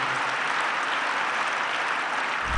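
Audience applause in Riyadh, a continuous even wash of many hands clapping, moderately loud with no break and no talk.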